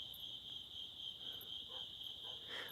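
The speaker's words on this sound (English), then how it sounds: "Can you hear the crickets?" Crickets chirping at night in a steady, shrill continuous trill outdoors, faint and even throughout with no voices.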